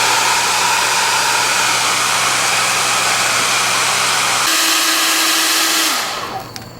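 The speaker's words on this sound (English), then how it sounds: "this is the time where I really appreciate the hair dryer" A hair dryer blows loudly and steadily, its motor pitch shifting partway through before it winds down and switches off near the end.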